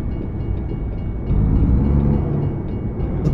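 A train passes in American Truck Simulator with a steady, rolling rumble that grows heavier and louder about a third of the way through, then holds. No voices.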